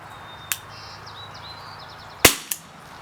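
An Umarex Walther CPSport CO2 BB pistol fires with sharp, snappy cracks: a lighter pop early, then a louder crisp shot followed quickly by a smaller one, over a faint steady background.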